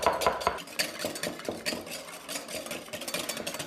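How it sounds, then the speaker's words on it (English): A whisk scrapes rapidly around a bowl as sunflower oil is worked little by little into tartar sauce, a close, busy rhythmic clatter with no talking. "We whisk."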